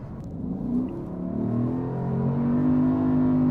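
A Lexus RC F with a naturally aspirated V8 revs up, a loud close engine note climbing steadily in pitch and holding high, heard alone.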